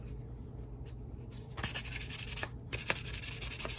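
Fine grit sandpaper rubbing on small metal HO scale steam engine chassis parts, a steady scratchy rasp that turns louder and harsher partway through in repeated back-and-forth strokes, close and alone.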